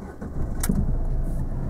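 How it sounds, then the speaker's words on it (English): A Marina car's engine starts up in a steady, close rumble that carries on evenly after a brief starter sound, with no talking over it. "start the engine."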